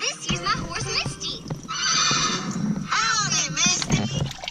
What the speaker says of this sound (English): This year's my horse Misty.